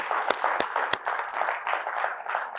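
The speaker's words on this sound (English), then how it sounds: "nice round of applause for" A symposium audience applauds the speakers at the close of a panel session on plastic recycling, with steady, dense clapping and a few sharper individual claps standing out.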